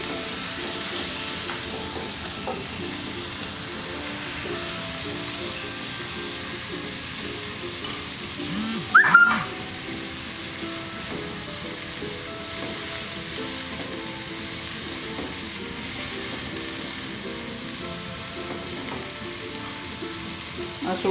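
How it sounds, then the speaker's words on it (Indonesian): Beef for a semur stew fries in a pan with a soft, steady sizzle throughout, a few faint scrapes of stirring and a brief clink partway through, close and alone without talk. "Terus diaduk-aduk sampai matang dan harum."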